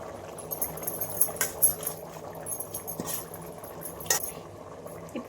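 Rice simmers in a pot of bubbling water for biryani, three-quarters cooked with coriander leaves scattered on top, a soft close bubbling broken by scattered light metallic clinks.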